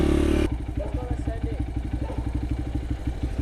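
A moped scooter engine runs in a steady, rapid putter with rhythmic chugging pulses, close by, after a brief louder burst at the very start; speech is faintly mixed in.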